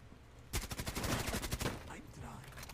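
Rainbow Six Siege gunfire: a loud, rapid automatic burst of around a dozen evenly spaced shots lasts just over a second, then fades into quieter background game sound.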